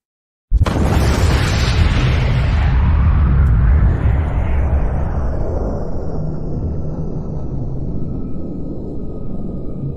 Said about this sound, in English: We've got a thunderstorm warning, and we're hearing some boom booms.